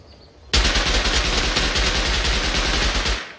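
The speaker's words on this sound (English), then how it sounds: "His friend's shooting at me now." Sustained automatic gunfire in the Rust video game, a fast, loud burst of rapid shots lasting close to three seconds after a brief quiet start, with no talking.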